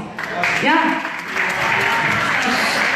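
A crowd at a live 2017 concert by a singer breaks into applause, dense clapping rising under a voice that talks over the start, then continuing steadily.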